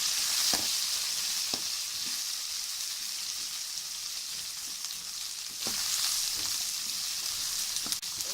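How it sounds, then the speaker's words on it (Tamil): Turkey berries (sundakkai) fry in hot oil for a kuzhambu, a bright, constant sizzle with occasional spoon taps and stirs, swelling slightly louder in the second half. "அது எண்ணெயில் கொஞ்சம் நேரம் வதங்க விடுங்க நல்லா"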